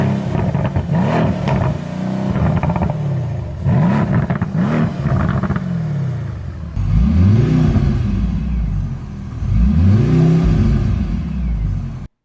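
A Mercedes C63 AMG revs hard in repeated bursts, first as a deep burbling V8, then as a four-cylinder turbo hybrid with a smoother, higher whine. The engine sits loud and close, with rising and falling pitch sweeps.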